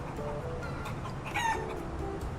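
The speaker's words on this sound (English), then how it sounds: "there's chicken sounds." Chickens cluck and a rooster crows close by, the crow rising briefly midway through a steady, busy background of farm noise.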